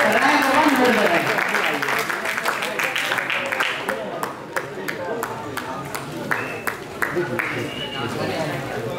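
Applause at a toppers award ceremony, dense clapping that starts loud and gradually thins into scattered claps, with a voice speaking over it.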